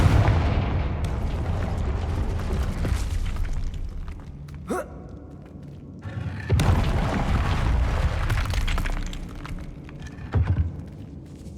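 In the Hogwarts Legacy video game, the Confringo fire spell goes off with booming explosive blasts over a dense rumbling background, several hits loud and close with no speech.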